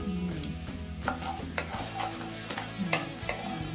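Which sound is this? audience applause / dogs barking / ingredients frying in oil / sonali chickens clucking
ingredients frying in oil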